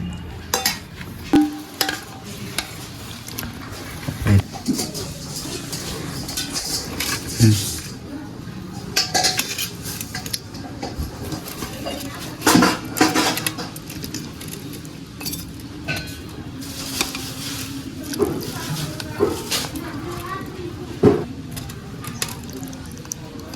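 Plates and utensils clink and clatter intermittently while shrimp curry is served, with scattered close taps of dishes and cutlery over a steady room background.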